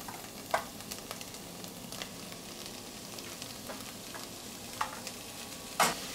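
Leeks frying in a pan alongside carrots for a Michelin-star lobster dish, a soft steady sizzle with a few sharp pops and spoon scrapes against the pan, quiet and close with no talk.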